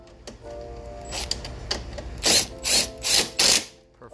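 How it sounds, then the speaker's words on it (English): A 10 mm ratchet tightening the battery hold-down on a 2017 Chevrolet Malibu gives a quick clicking run and then three louder close bursts of ratcheting, with no talk. "And now we're going to go ahead and secure them with a 10 millimeter."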